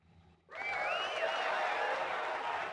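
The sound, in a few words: crowd cheering in Persona 4 Arena Ultimax video game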